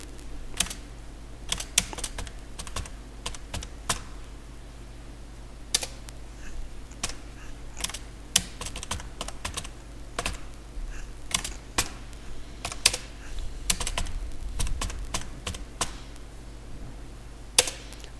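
Someone types on a computer keyboard while working in Lazarus, making quick bursts of sharp key clicks with short pauses between them, close and fairly crisp, with no talking.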